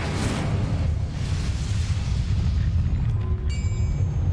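The Incendio fire spell is cast in Hogwarts Legacy, giving a loud, continuous roaring whoosh with deep booming rumble, and faint tonal chimes entering near the end.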